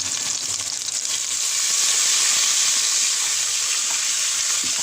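Garlic sizzles loudly in a hot pan alongside marinated pork tenderloin, a dense, continuous hiss that swells slightly after the first second and stays steady with no talking.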